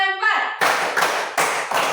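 Children in a classroom clap their hands in a counted routine: a brief voice at the start, then sharp, separate group claps coming in distinct bursts, loud and close.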